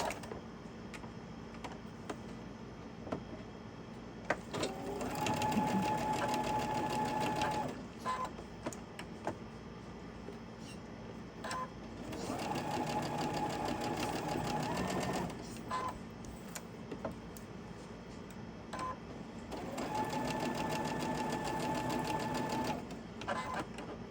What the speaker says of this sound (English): We're going to chain stitch these.